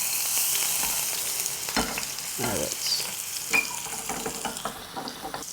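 Beef tenderloin with fresh herbs frying in very hot oil, a loud, steady sizzle broken by scraping and clatter as the meat is turned in the pan, with no talk.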